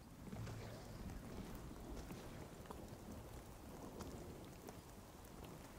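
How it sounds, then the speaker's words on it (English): Rain falls steadily during a storm in the video game The Cycle: Frontier, a faint, even hiss with low rumble that continues unbroken throughout. "the rain is hitting"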